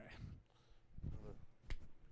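A single sharp hand clap, made to sync a podcast recording, cuts through briefly between stretches of close conversation.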